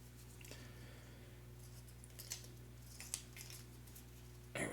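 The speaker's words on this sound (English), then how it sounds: "All right, Gary, let me shuffle your tiles." Board game tiles for the Harvest board game being shuffled by hand during solo play, faint scattered clicks and soft scrapes over a steady low hum, ending in a louder clatter, with no talking.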